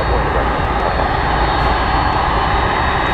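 Aircraft at DFW Airport beside the runway, heard as a loud, steady engine roar with broadband noise that holds evenly throughout, no talk over it.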